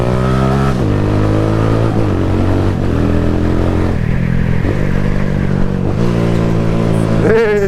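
A motorcycle without a quick shifter changing gears, its engine droning loudly and steadily with the pitch dropping and jumping at each shift, several shifts in a row close by.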